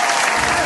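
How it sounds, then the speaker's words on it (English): Loud, dense audience applause welcoming a show, a short, close burst of many hands clapping with no voices over it. "please get your warm welcome applause to the Turtle Lab"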